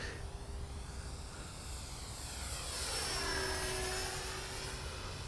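An E-flite Turbo Timber RC bush plane flies overhead, its whining motor sweeping in pitch and swelling as it passes close, with steady broadband rush throughout.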